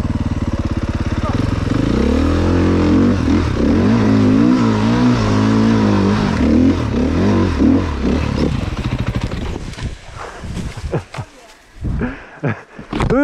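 A KTM enduro motorcycle revs hard and loud up a steep, slippery climb, its engine pitch wavering and surging before cutting to bursts and pauses, with a rider's voice heard briefly.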